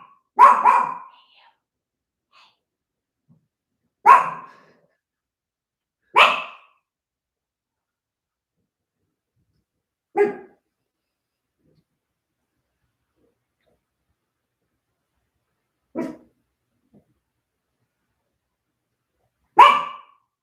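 A dog gives six single barks, loud and close, spaced several seconds apart with silence in between.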